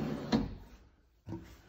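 Full-extension kitchen cabinet drawer pulled out: a sharp clack, a brief sliding rumble, then a second knock as it stops, close and with no voices.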